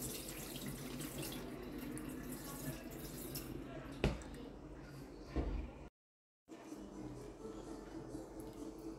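Used tea powder is rinsed under a running tap, a faint steady wash of flowing water with a couple of louder splashes or knocks and a brief dropout, no voices.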